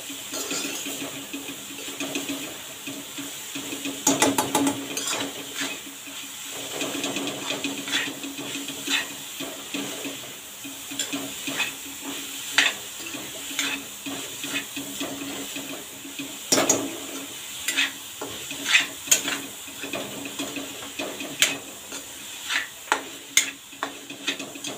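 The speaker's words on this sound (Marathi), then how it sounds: "गूळ चांगला विरघळेपर्यंत हे चांगलं परतून घ्यायचं आहे।" Jaggery being stirred and sautéed in a pan until it melts, with soft scraping, light sizzling and irregular clicks of the spoon against the pan, close and fairly quiet throughout.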